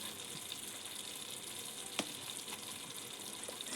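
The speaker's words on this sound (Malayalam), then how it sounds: "ഇനി ഇതെല്ലാം കൂടി നല്ലതുപോലെ ഒന്ന് മിക്സ് ചെയ്തെടുക്കാം" Ground cumin and garam masala are stirred and fried in a pan for mushroom biryani, giving a steady soft sizzle with faint stirring scrapes and one brief clink near the middle, no voices.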